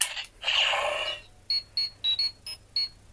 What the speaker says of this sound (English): You get that awesome communicator beep, which is cool.